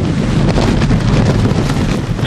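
Strong gusts from Typhoon Yagi batter Hong Kong, a loud, roaring rush of wind buffeting the microphone continuously; rain is not clearly distinguishable in the din.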